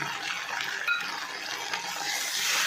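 Prawn heads being stirred with oil, salt and turmeric in a pan, a soft continuous sizzle with light scraping and a faint clink of the utensil, quiet and close.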